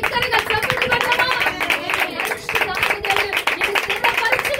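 A church congregation in Vijayawada claps loudly in steady, rhythmic beats. Singing or chanting voices carry over the clapping throughout.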